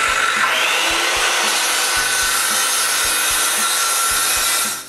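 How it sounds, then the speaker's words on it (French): A hand saw cuts tenon shoulders into wooden posts in steady, rhythmic back-and-forth strokes, close and loud, with a rasping grain and no talking. "je fais une série de coupes de la bonne profondeur jusqu'à l'épaulement du tenon"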